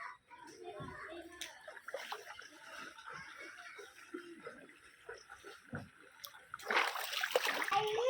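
Flood water around submerged houses and a flooded kitchen is splashed and churned in scattered bursts, with people talking throughout and a louder, sustained burst of splashing near the end.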